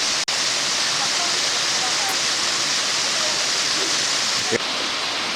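A small waterfall on Deogyusan mountain rushing steadily, a constant broad roar of falling water with no break, close and fairly loud.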